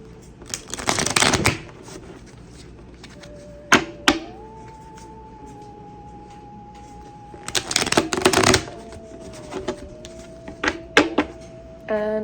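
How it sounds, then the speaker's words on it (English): Several bursts of rapid card shuffling, riffling and flicking close by, separated by a faint sustained tone and quiet room noise. "so we're gonna shuffle these cards."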